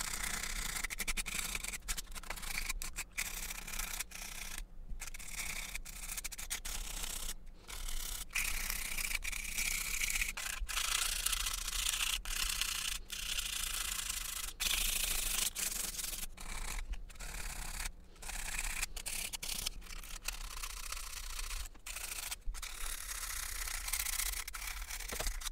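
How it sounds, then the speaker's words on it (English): 180-grit sandpaper is rubbed along the edges and copper corners of a Wii circuit board, making a continuous, close, raspy scratching with steady back-and-forth strokes and no voices. "When we do our sanding, we want to sand it on the edges of the PCB"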